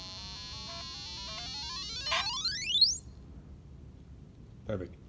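A speaker plays a frequency sweep tone through a low-pass filter. The faint tone rises steadily in pitch and then fades out, with short bursts of other sound cutting in midway and near the end.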